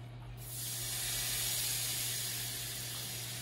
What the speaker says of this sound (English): secret weapon, balsamic vinegar. Touch of this in here.